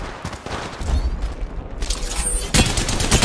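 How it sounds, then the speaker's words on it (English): Rapid gunfire crackles in the mobile shooter Apex Legends Mobile, with bursts of sharp shots close up and a louder volley near the end. "Taking fire."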